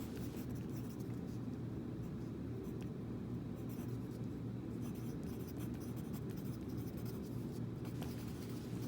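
Pen or pencil writing an answer on a math worksheet, a continuous close scratching and rubbing that fills the whole stretch without any talk.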